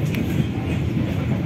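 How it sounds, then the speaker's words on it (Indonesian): A Lodaya passenger train rolls along on the Kroya–Bandung line, with a steady close rumble of wheels on track heard from inside. "impresi dari saya untuk naik kereta api Lodaya pada hari ini"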